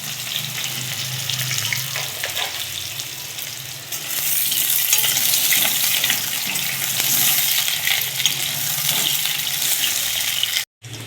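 Food fries in very hot oil in a pan, a close, steady, fairly loud sizzle that swells after a few seconds and stays dense, with no talking.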